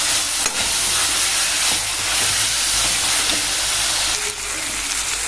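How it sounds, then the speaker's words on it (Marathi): Bitter gourd frying in oil in a pan, a loud, dense, steady hiss of sizzling that runs the whole time with only slight dips, heard close and without speech. "एक तेलामध्ये कारले छान असं भाजून घ्यायचं आहे"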